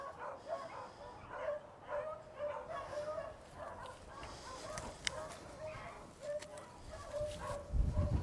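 Dogs bark on a dairy farm beside an old barn, repeated barks and yips at moderate distance with birds and fowl audible behind them.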